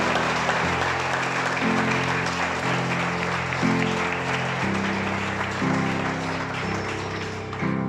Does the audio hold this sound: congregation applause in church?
yes